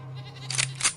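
Goats bleating as a sound effect in a narrated Filipino folk story, two short, bright bleats in quick succession over a low steady hum, close and clear, with no voices.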